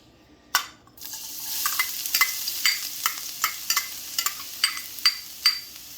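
Garlic sautés in a hot pan, a steady sizzle broken by a dozen sharp scraping stirs that come in an uneven rhythm, loud and close, with no voices.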